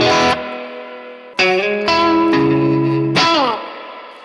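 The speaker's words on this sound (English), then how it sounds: "And you also have control of a reverb, which is over here in the back." Electric guitar through a NeuralDSP Mesa Boogie Mark IIC+ amp model with reverb at maximum, three loud distorted chords struck in turn, each ringing out into a long wash of reverb tail.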